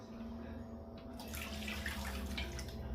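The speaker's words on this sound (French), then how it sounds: "On rajoute le bouillon" Broth poured into a cooking pot during home cooking, a steady close liquid pour with a watery splashing wash that swells after the first second and keeps running, no talking.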